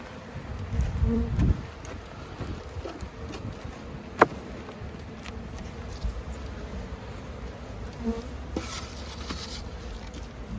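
Honey bees in a spring colony hum in a soft, continuous drone around an opened hive, faint and steady, with a brief low rumble of handling early on and a sharp click midway.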